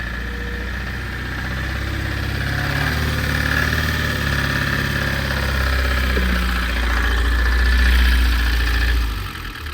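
A Renault 4x4 timber lorry's diesel engine idles with a steady low chugging throb, swelling slightly before easing off at the end, failing to rev even with the fuel pump fully open.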